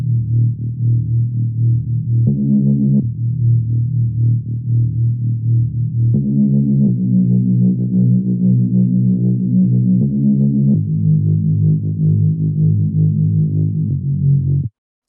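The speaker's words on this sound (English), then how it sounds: "we have the Reese that is also played at the same time" A Reese bass patch from the Spire synth, used in liquid drum and bass, plays a loud, sustained sequence of detuned, growling bass notes that shift pitch every few seconds with no other sounds.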